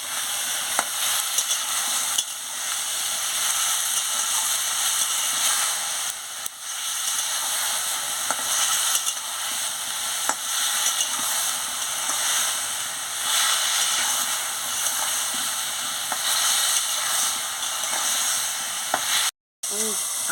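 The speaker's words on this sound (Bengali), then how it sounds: "হলুদের গুঁড়ো দিয়ে দিচ্ছি, দিয়ে ভালো করে আনাজটাকে কষিয়ে নিচ্ছি।" Pumpkin stem vegetables with turmeric fry in a pan, a constant close hissing sizzle with faint stirring clicks that holds steady throughout, cut off by a brief silence near the end.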